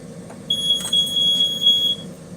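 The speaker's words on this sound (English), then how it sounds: "Why are you going off? My smoke alarm. No reason for you to go off." A home smoke alarm going off chirps with a piercing high-pitched electronic tone, sounding for about a second and a half over low background hum.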